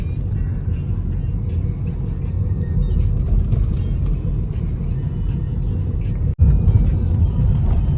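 A car drives steadily along a road heading toward the woods, its engine and tyre rumble low and constant from inside the cabin, with a brief dropout before the drone resumes.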